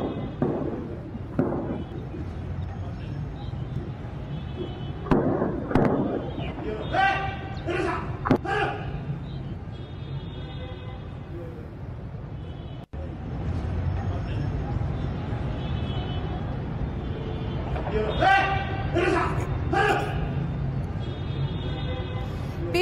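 Gunfire and blasts from an armed encounter with militants in Peshawar, Pakistan, near a paramilitary headquarters: sharp bangs and rapid bursts of shots ring out repeatedly over a steady rumble, with voices talking underneath.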